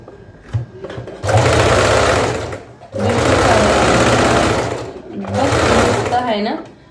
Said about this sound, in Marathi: तर शिवायला स्टार्ट करते